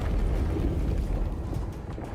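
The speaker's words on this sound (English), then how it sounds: "Oh no, those green explosions" Green explosions in the video game Space Marine 2 rumble as a dense, continuous low boom, loud and steady throughout with no clear separate blasts and no talking over it.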